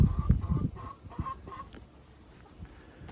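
A rooster gives a string of short, throaty clucks close by, several rapid calls in the first second and a half, then quieter scuffling.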